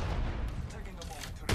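P2020 pistol fire in an Apex Legends match: a few sharp shots over game noise and chatter, ending with one loud crack.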